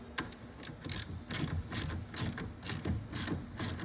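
A ratchet tightens an 18 mm bolt on a car's CV axle hub, giving quick bursts of close, sharp clicking in a steady back-and-forth rhythm with no talk.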